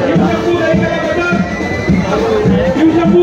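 Loud crowd at a Dahi Handi festival in Mumbai, a dense mass of voices and chatter with occasional shouts rising from the throng, close and continuous.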